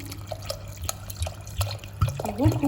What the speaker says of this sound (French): Donc maintenant, je vais rajouter l'eau